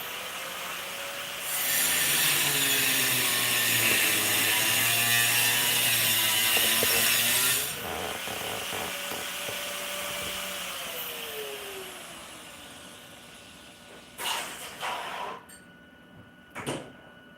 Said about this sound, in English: Let me turn on the grinder real quick